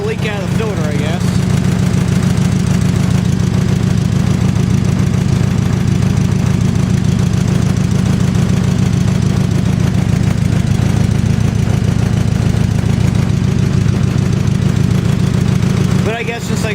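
A 1950 Farmall H tractor engine idling close by, a loud, steady low rumble with a rhythmic chugging that holds for the whole stretch.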